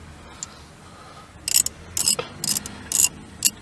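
A hand ratchet works on an exhaust bolt during a motorcycle quick-release exhaust install, giving bursts of rapid metallic clicking in roughly four strokes. The strokes are close and moderately loud over quiet background noise, with no talking.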